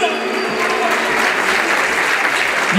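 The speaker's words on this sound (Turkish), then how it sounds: "Kocaman alkışlar" Applause from a gathering of people from Yoran meeting in Didim, a dense, steady wash of clapping that stays loud and close throughout, with a voice faintly audible beneath it.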